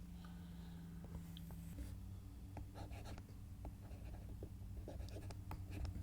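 A pencil sketches a signature during a digital art session, giving faint, quiet scratching strokes in short bursts with no talking.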